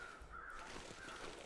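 Two faint, drawn-out crow caws sound far off across a windy, empty landscape in The Long Dark, spaced about half a second apart over steady ambient hiss.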